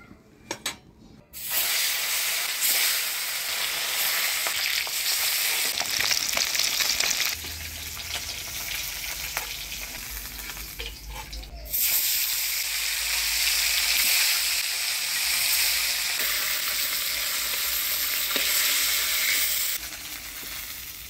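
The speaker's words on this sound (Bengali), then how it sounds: "এবার মাছটা ভাজিয়ে নিব।" Fish sizzles loudly in hot oil in a pan, cooked for a Bengali village fish curry; a continuous close frying hiss lasts throughout, with brief stirring and spitting changes.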